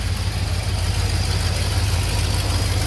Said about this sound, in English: You can hear a little bit of an exhaust leak there.